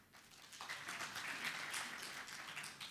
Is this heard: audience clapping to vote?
yes